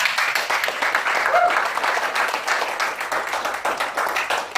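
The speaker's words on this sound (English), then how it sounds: "Give him a round of applause" Audience applause at a live evening event in Auckland, New Zealand: dense, continuous clapping from a crowd at steady volume throughout.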